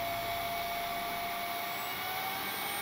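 A Mamibot Flomo III cordless vacuum cleaner mop runs at a lowered suction setting, with a steady, even motor whine and airy rush, close by and uninterrupted.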